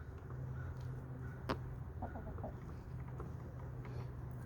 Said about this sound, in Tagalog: Yan yung nagalit, yung si higanteng manok na yan.